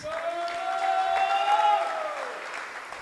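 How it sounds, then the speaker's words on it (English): Audience applause inside a temple during a gathering, a steady round of clapping from a crowd that holds fairly even for a few seconds and then fades toward the end, with tonal background sound running underneath. "we can give her a big round of applause."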